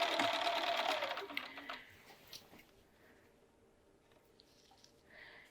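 A sewing machine stitches a short cuffed sleeve into an armhole, running loud and steady for about two seconds before easing off to faint, intermittent mechanical ticks.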